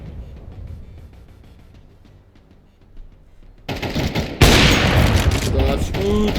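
Gunfire in the video game CS:GO 2 bursts in after a quiet stretch, loud and close, with a dense volley of rapid shots and a heavy boom near the end, layered over game sounds.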